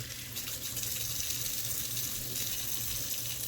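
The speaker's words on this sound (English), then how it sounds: "We're going to get some warm water down to a steady stream, but not big." Warm water running from a tap in a steady, moderate stream, a continuous close splashing hiss alone at a fairly low level.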